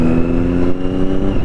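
A Triumph Daytona 675 Arrow motorcycle engine runs loud and close with a steady, buzzy drone, its exhaust popping and crackling irregularly throughout.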